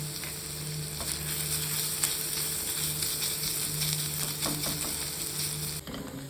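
Onions and crushed ginger frying in hot oil in a pan for white polao, a steady close sizzle that runs unbroken with faint stirring clicks and stops abruptly near the end.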